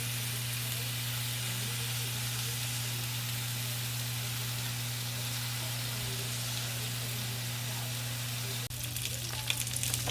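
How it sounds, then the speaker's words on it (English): Steaks searing in a hot pan produce a loud, continuous sizzle with a low steady hum beneath it, ending in a brief clatter near the end. "so I'm going to sear them off"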